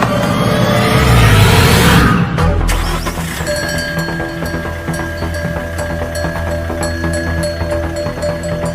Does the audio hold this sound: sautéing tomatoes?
no